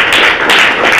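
Classroom applause at a government school in Jharkhand, a dense burst of many hands clapping steadily and loudly for about a second with no break.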